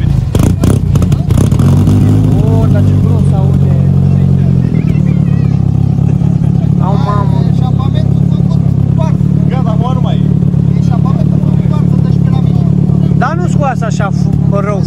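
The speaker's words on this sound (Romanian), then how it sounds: "Hai să vedem cum se aude tuba asta lui Vlad ce și-a pus-o acum." Vlad's retro Dacia 1300 with a newly fitted aftermarket exhaust, its engine starting with rapid clatter and then idling as a loud, deep rumble, while people chat nearby throughout.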